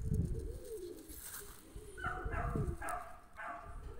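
Pigeons coo close by in a series of low, soft, repeated calls over a murmuring background.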